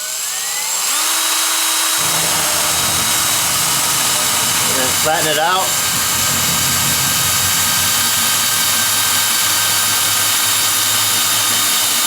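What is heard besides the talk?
drill boring into the bottom of a plastic barrel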